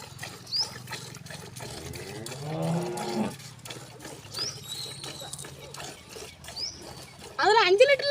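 A six-month-old cow moos in a farm setting, a drawn-out low call in the middle, with occasional higher animal cries and shuffling around it.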